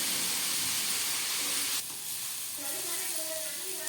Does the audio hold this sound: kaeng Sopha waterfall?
no